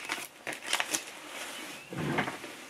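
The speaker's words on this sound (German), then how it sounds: "Tüte wieder schön verschließen." Crinkling plastic of a pipe tobacco pouch being folded and sealed shut, with bursts of close crackle and rustle separated by a brief pause.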